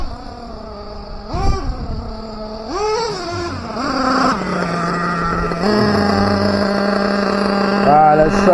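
A Team Associated MGT RC monster truck with a running fault revs its engine in rising and falling whines that hold at a steady buzz, close and loud, with people talking over it.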